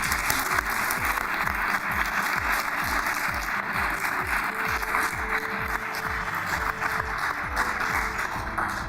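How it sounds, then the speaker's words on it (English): A crowd at a school hero award ceremony applauds steadily, dense continuous clapping with a faint electrical hum running underneath. "I think we should give Mrs. Vasquez, Rosario's mother, along with Miss Cobo, a round of applause for attending."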